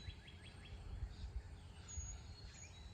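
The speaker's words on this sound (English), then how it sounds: "Listen to those birds." Faint chirping birdsong drifts through a lush southern garden in late spring, a few short repeated tweets over a low rumble of background noise.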